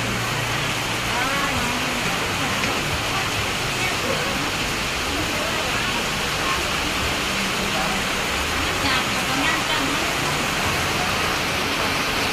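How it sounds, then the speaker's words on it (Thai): Steady rain pouring at an outdoor forest-produce market, a dense, loud, continuous hiss of drops on surfaces with no break across the whole stretch. "ฝนตกฝนตกฝนก็ตกนะค่ะ"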